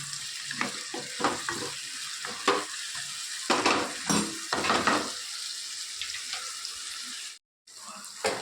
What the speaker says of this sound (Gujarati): સરસ બધું શેકાવી દઈએ.